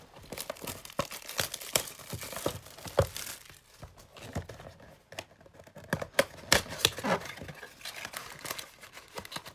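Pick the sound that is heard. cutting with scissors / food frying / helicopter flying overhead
cutting with scissors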